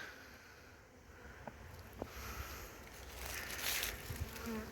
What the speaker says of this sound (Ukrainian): бжілки повилітали.